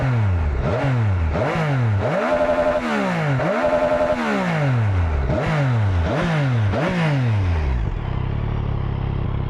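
Yamaha R9 motorcycle on its stock exhaust revving repeatedly, a loud close run of about eight sharp blips that each rise and fall in pitch, easing to a lower idle-like tone at the end.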